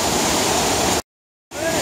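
A waterfall roars as a steady broadband rush of falling water, loud and close, cut by a brief half-second dropout before the rushing resumes.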